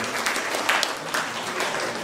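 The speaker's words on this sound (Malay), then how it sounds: "Tepuk tangan untuk kita semua" An audience at a Malaysian forum on national sustainability claps together, a dense, fairly loud patter of many hands with a few sharper individual claps standing out.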